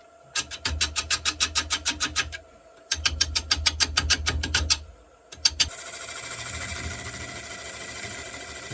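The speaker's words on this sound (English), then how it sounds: "Just do some scooping cuts to get that flattened off." A cutting tool takes scooping cuts across elm wood to flatten it, making rapid rhythmic rasping strokes in two fast bursts, then a steady continuous whirring hiss, close and fairly loud.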